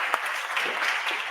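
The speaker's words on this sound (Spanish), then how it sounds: "voy a pedir un fuerte aplauso para Patricia" An audience at a medical technical forum on hemodiafiltration claps for Patricia de Sequeira, a lead researcher, in a brief, steady burst of many hands that stays even throughout, with no speech.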